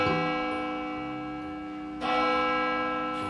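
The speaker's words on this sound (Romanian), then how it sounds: "Scrooge se trezi singur în timp ce clopotele băteau în depărtare." Church bells tolling in the distance on a winter night, a sustained ringing tone with a fresh strike partway through, steady and resonant.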